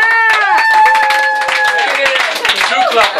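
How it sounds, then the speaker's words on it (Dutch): Crowd on a metro train during an afterparty, clapping in a quick, uneven rhythm under loud group singing and shouting voices. "Kunnen jullie niet klappen, ja?"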